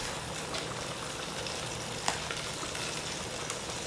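Cracked cumin seeds sizzle in a pan for lentil soup, producing a dense, continuous frying hiss with a faint pop or two, steady and moderately close.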